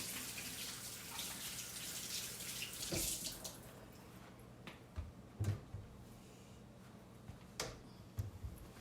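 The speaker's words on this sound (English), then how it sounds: "I'm gonna wash my hands really quick." Running tap water splashes over hands at a kitchen sink, a steady hiss that breaks off partway through, followed by a few scattered clunks and drips.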